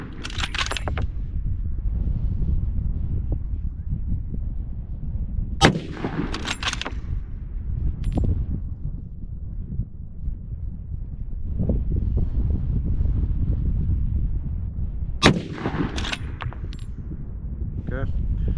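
A Ruger Precision Rifle in 300 Winchester Magnum fires two sharp, loud shots several seconds apart, then a third after a long pause, over steady outdoor wind rumble with faint clinks and handling noise between.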